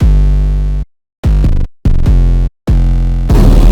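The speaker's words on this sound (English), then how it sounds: "It's like a bass synth with a fuck ton of like distortion and high end on it." A heavily distorted 808-style bass synth from a Serum preset plays a short pattern of loud, gritty sustained notes cut by abrupt silences, ending on a harsher, noisier hit.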